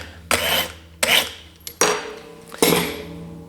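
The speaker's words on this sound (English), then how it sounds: "Got to sharpen my boning knife here." A boning knife is drawn across a sharpener in four separate rasping strokes, close and fairly quiet, with short pauses between them.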